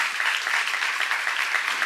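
Steady applause from a church congregation at a Korean seminar, many hands clapping in a dense, continuous wash with no voices over it.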